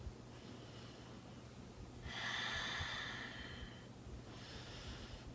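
Soft breaths during yoga practice, a faint steady inhale followed by a louder, airy exhale and another gentle breath, close and quiet with no talking over them.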